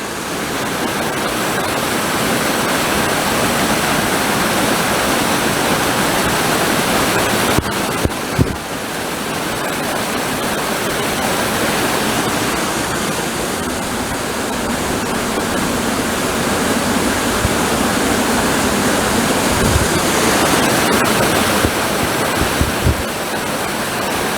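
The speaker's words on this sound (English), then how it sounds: "I'm guessing this is what they were talking about when they were saying waterfalls." A loud, steady roar of a waterfall heard up close at Dolly Sods, dense rushing water filling the whole clip with no voices.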